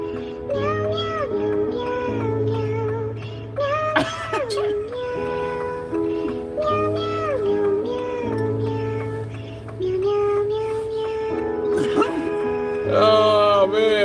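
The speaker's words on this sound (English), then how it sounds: "Them cats sound amazing" Cats meow in rising and falling tones, repeated in a patterned, song-like sequence over a steady droning backing, with voices mixed in.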